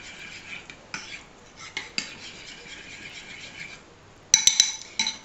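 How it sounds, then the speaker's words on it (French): A spoon stirs a coconut milk and oil hair mask mixture in a small bowl, with soft scraping strokes, then a burst of bright clinks against the bowl near the end, close and fairly quiet, no talking. "Donc il n'y a plus qu'à mélanger ça."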